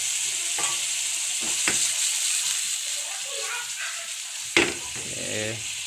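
Sago worms frying in a pan make a steady hiss, with a few soft clinks and knocks and one sharp rattle partway through. Faint voice-like sounds are heard in the background.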